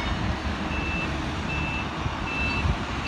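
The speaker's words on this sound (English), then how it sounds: "Look at this, truck's going like crazy." A truck reverses at a capelin fishery wharf in Port de Grave, Newfoundland, its backup alarm giving evenly spaced high beeps over a dense, rumbling engine and wharf noise.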